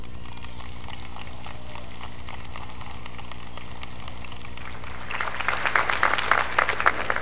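A crowd at an outdoor school handover event in Cochabamba bursts into applause for President Evo Morales, rising suddenly from a steady background hum into dense, crackling clapping that continues to the end.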